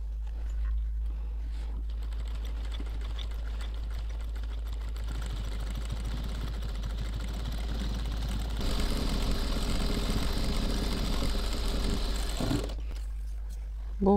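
A sewing machine stitching a white headscarf, a steady mechanical whirring hum running continuously for several seconds, getting a little louder toward the end before it stops abruptly, close by.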